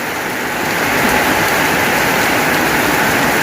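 Heavy rain pours down in a loud, dense, unbroken hiss close by, steady from start to finish with no voices over it.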